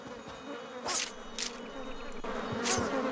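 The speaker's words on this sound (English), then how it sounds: "And bees!" Bees buzzing in the video game Mini Ninjas, a faint low drone with a few brief whooshing bursts over a quiet game ambience.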